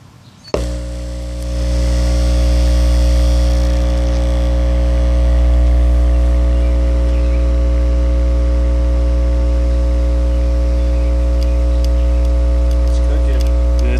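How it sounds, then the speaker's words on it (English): An Alpine Type X 12-inch subwoofer wired straight into a 120-volt wall socket gives a sudden pop, then a loud, steady electrical hum and buzz that runs unbroken to the end. "We're gonna wall socket this Type X."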